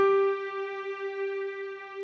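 A single sustained note on a Casio CT-X5000 keyboard piano voice with sustain effect, a bright steady tone with rich overtones ringing alone for about two seconds and slowly fading.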